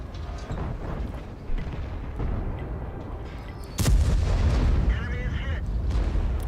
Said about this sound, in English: Beautiful shot into the Tier 9 German heavy tank, the E75.